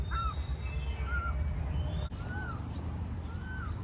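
A lost peacock chick chirps outdoors, giving several short, thin, high calls spaced about a second apart over steady background noise at moderate distance.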